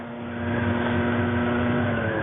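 A 50cc motorbike rides along, its small engine giving a steady buzzing drone with a constant tone that swells slightly at first, heard close and alone without talk.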